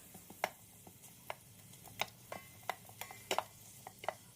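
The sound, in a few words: stirring and sautéing onions for beef mechado in Instant Pot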